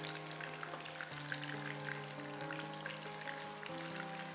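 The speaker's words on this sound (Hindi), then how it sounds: "फ्राई हो रहा है तलो कुकिंग ऑयल के अंदर" Beef kabab frying in hot cooking oil sizzles steadily and close up, a continuous crackle with small pops throughout, alone with no talking and a faint hum beneath.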